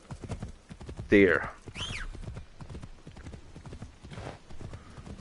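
A horse gallops in Assassin's Creed Shadows, its hooves clip-clopping in a steady rhythm, with a brief loud neigh early on and someone talking over the hoofbeats.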